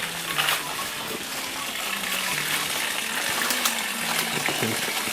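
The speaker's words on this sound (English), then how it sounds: "So it's a stream that runs through the caves." Stream of drinking water running through the Nframabuom ancestral caves, a steady close rushing gush with a faint tonal murmur underneath throughout.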